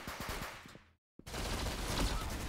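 Rapid bursts of gunfire in a Roblox shooter game, a sharp crackling volley that cuts out briefly to silence, then a dense continuous barrage of shots and noise.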